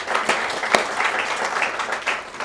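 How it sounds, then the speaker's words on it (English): Applause from the audience at a financial sector awards ceremony, a brief burst of fairly close clapping from a modest group with a few sharp, distinct claps, heard on its own. "I think you deserve a very good applause for that."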